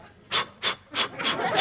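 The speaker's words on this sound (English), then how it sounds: "You have trouble breathing?" Three or four heavy, breathy pants come in quick succession, strained and close, each a harsh rush of air.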